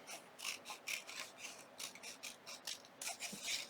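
Scissors trim paper around the edge of an ink container, giving a series of quiet, close rasping snips and rubs in an uneven rhythm.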